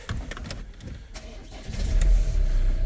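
A two-litre diesel engine in a Renault Trafic van turns over and catches, its low rumble swelling into a steady, louder idle close by, with no talk.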